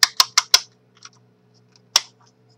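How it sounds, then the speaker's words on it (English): Sharp plastic clicks from an Otterbox Defender iPhone 4 case belt clip: four quick snaps in a row, a couple of faint ticks, then one more click after a pause. "you do get this belt clip, and you can turn around and you can hear the clicking there"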